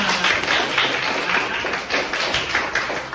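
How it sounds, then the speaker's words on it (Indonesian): Applause from a classroom audience during a teacher performance assessment session, dense steady clapping throughout with no voices. "Ya, kita berikan tepuk tangan untuk kita semua."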